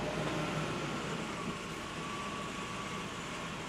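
Engine of a Mercedes-Benz W126 S-Class running smoothly in gear at idle, a steady low, even hum with no variation, close by and without talk.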